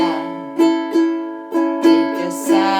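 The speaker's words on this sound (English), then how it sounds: "Well, first of all, you could do the island strum" A ukulele plays an island strum on a song's chords, with crisp strokes in a bouncy, syncopated pattern and the chord ringing between them, close and clear.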